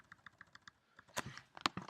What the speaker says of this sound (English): I'm just going to press backspace to delete it